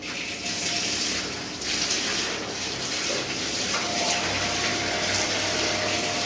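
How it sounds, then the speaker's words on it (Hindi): Water gushes steadily into a container for a calf's feed, a continuous close splashing rush with a few brief dips in loudness. "ले जी, अब इसमें पानी ऐड होने लगा।"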